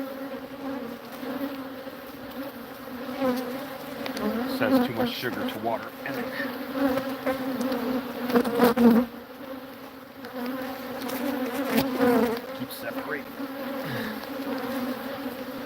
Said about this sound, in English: the bees, look how they've already come up to the edge to start licking it up